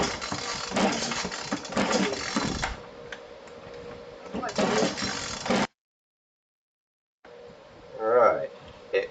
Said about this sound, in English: it cranked and died when I had the choke on